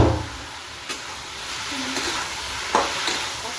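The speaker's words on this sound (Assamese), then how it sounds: "এইফালে পিঁয়াজটো ভাজি আছোঁ" Onion fries with spices in a pan, giving a soft continuous sizzle broken by a few faint scrapes and knocks of stirring. No one speaks.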